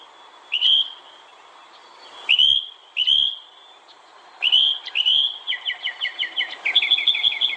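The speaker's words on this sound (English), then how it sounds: "There's one single bird left." A single bird chirps in a film scene, clear whistled tweets in short bursts, then a rapid rising trill of repeated notes near the end, with a faint low background.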